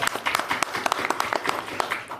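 Applause at a city council stated meeting, brief and fairly faint, a short patter of clapping with scattered claps from the room.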